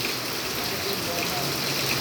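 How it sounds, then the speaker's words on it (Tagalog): Heavy storm rain in Pangasinan, Philippines, pours down as a steady, dense wash of hiss with no breaks, loud and close throughout. "ilang linggo nang umuulan dito sa Pangasinan"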